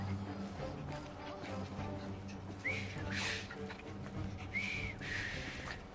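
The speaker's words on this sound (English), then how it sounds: "I've just learned to whistle." A person whistles two short rising notes, a few seconds apart, over a busy background of music and ambient noise.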